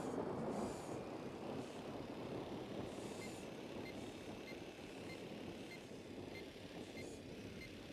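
A surveillance drone jammed in Ghost Recon Wildlands gives a steady, dense roar of static-like noise with faint, evenly spaced electronic blips running through it.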